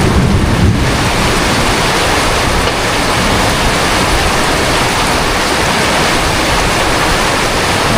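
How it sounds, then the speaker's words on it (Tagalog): Heavy rain pours down steadily on a rural farm in the rainy season, a dense, loud, constant hiss that fills the whole clip with no voices over it. "Lakas ang ulan!"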